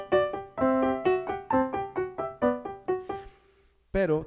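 Solo piano playing the second theme of the first movement of Mozart's Piano Sonata No. 1, a clear series of bright repeated notes over a steady rhythm, close and alone, ending with a brief pause and a final struck note.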